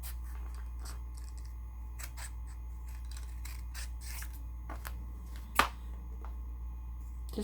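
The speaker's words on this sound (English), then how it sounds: "Give it a nice round shape and keep trimming." Scissors trimming Halloween decor into a round shape, a run of quiet, close snips and short cuts at an uneven pace over a low steady hum, with one sharper click near the end.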